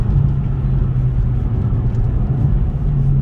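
A car with an automatic gearbox accelerates hard. Its engine is a loud, steady droning rumble that holds throughout without a clear break.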